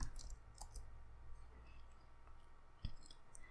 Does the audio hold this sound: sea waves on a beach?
no